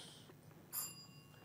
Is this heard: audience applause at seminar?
no